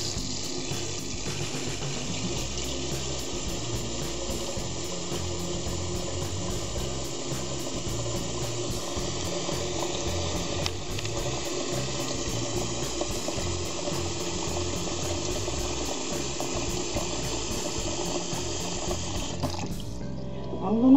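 Tap water runs steadily into a cooking pot in a kitchen, a continuous hissing rush with no break, plain and close, ending abruptly as the flow stops.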